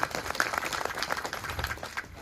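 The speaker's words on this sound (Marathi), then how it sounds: "टाळ्या समाजासाठी." Crowd applause at a Charmakar community political gathering: a dense, steady patter of many hands clapping together, moderately loud and sustained throughout, thinning slightly at the end.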